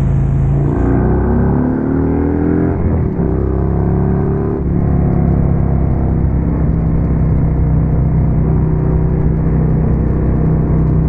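Harley Street Glide V-twin with Rinehart DBX45 exhaust pulling away at about 35 mph, a loud, deep throbbing rumble that climbs in pitch as the throttle opens, heard close from the rider's seat with steady wind roar.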